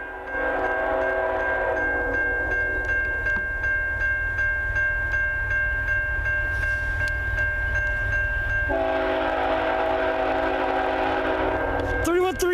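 CN freight locomotives, including a C40-8, roll past near milepost 355 north of Ladysmith with a loud, steady engine roar and a sustained horn blast that returns stronger near the end, with no speech.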